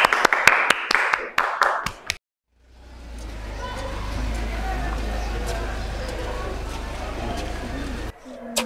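A few sharp, separate hand claps ring out after a student's music performance, then stop abruptly, followed by a low steady rumble with faint voices.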